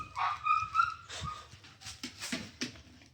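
A dog close by whimpers in high thin whines, then gives several short soft barks and yips in uneven bursts, fairly quiet.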